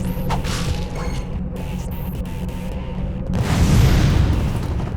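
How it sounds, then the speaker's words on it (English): Rocket launcher in Ratchet & Clank 2 firing with a whooshing launch, then a rumbling blast that swells louder over the last couple of seconds, dense and continuous with no pauses. "As you can see, it's a good rocket launcher."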